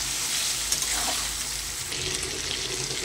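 Tehari cooks slowly in a pot over a low flame with a steady, even sizzling hiss that stays close and moderately loud throughout, with no voices over it.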